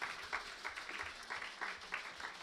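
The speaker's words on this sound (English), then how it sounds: "can we give them another round of applause?" Church congregation applauding the worship team at the close of a service, a fairly faint, steady patter of clapping with no voices over it.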